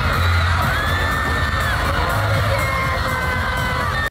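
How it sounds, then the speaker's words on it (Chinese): Loud, continuous screaming and cheering from a K-pop concert audience in Macau, a dense crowd roar with high shrieks and whoops running through the whole stretch without pause. "台下尖叫声掺杂了一些我的天哪"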